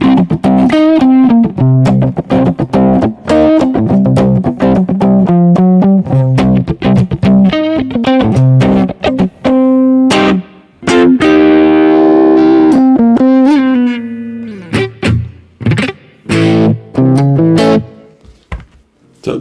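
An electric guitar played through Blue Cat Axiom amp-modelling software gives loud distorted picked notes and chords with reverb, in phrases broken by short pauses and a sustained bright passage near the middle.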